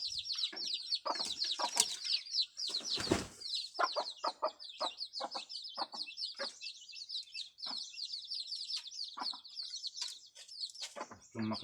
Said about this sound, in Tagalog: Tama tong manok.